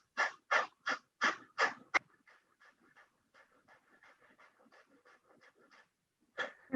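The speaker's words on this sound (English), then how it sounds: "we're going to do 20 breaths" A person does rapid breathing exercises: about six forceful, quick breaths in an even rhythm, then a stretch of faint, quieter breaths, and one more loud breath at the end. No talking.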